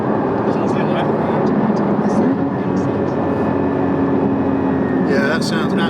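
A Porsche Cayman 981 GT4 engine pulling hard while driving, a loud, continuous drone heard from inside the car, its pitch rising steadily under a brief spoken remark.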